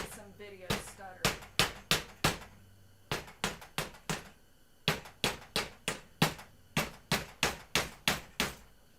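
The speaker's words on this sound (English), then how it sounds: "It could be because I'm over here whacking on hammers" Sharp hammer blows ring out during a pinball machine restoration, struck in quick regular bursts of four to six hits separated by short pauses, each impact crisp and close.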